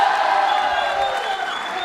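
A school audience at a Lord Mahaveer quiz show at Mahaveer Digambar Jain School claps for a contestant, a steady, dense wash of applause with crowd noise throughout the short stretch.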